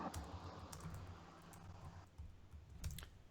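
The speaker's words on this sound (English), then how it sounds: "You typing hard as hell." Heavy, uneven keystrokes clack on a computer keyboard in scattered bursts, picked up close by a sensitive microphone over a faint background hiss.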